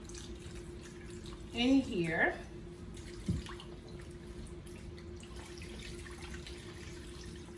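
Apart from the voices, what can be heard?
pouring chicken stock into a roasting pan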